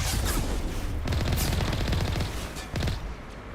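Dense, loud gunfire from turrets in modded Mass Effect 1 Legendary Edition, rapid overlapping bursts and heavy impacts continuing steadily with a brief dip near the end.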